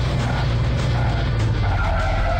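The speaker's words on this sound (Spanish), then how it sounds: "hemos logrado frenar a tiempo, ya que estábamos perdiendo el control de nuestro auto" Loud, continuous tire skid and braking screech from a car in a ramp stunt racing video game, with engine roar underneath throughout and no talking.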